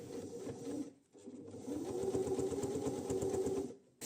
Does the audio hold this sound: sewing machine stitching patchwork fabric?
yes